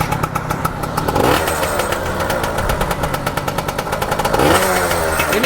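A 2005 motorcycle engine idles and revs with a loud, steady exhaust note close by, rising into a couple of throttle blips around the middle and near the end.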